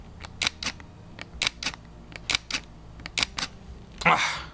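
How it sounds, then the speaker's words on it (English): Mechanical shutter of a Fujifilm X-Pro1 camera firing in a series of crisp, close clicks at an uneven rhythm, about a dozen sharp snaps, ending in a slightly longer burst. "I absolutely love the mechanical shutter sound"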